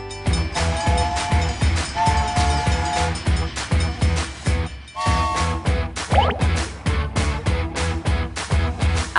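A train sound effect for departure plays loud and alone, with rhythmic wheel clatter and repeated horn or whistle blasts over roughly nine seconds.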